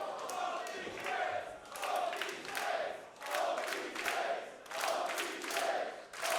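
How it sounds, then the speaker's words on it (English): A wrestling crowd roars in steady rhythmic swells, a dense arena chant of approval rising and falling about once a second, loud and sustained. "The crowd giving their approval to both athletes"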